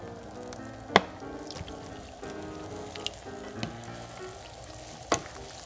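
Chicken liver goes into a pot of chicken menudo, bringing a low bubbling simmer with a few sharp utensil clinks and knocks scattered over about six seconds.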